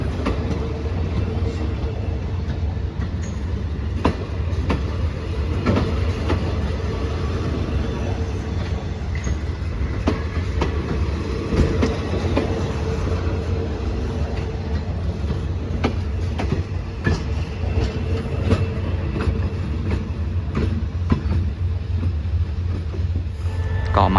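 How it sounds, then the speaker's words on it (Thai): Thai express train no. 83 from Bangkok to Trang, a diesel-hauled service with sleeper cars, rumbles steadily with continuous wheel and engine noise and occasional clicks throughout, fairly loud and constant, with some faint voices underneath. "หัวของรถด่วนขบวนที่ 83 กรุงเทพตรังนั่นเอง"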